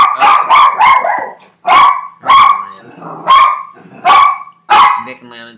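A dog barks loudly and close by in a rapid series of sharp, repeated barks, with short pauses between bursts.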